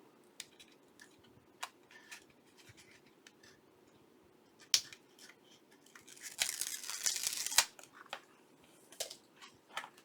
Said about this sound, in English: So I'm going to take the score tape off.